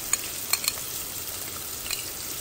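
Chopped onions frying in a pan with fennel and cumin seeds, a steady low sizzle with a few faint crackles and stirring clicks, fairly quiet and without talk.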